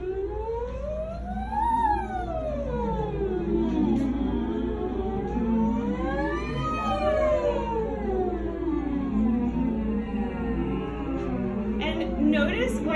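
A voice slides up and down in smooth, repeated wailing sweeps, imitating a siren, with a breathy, muffled quality as if sounded through a tube.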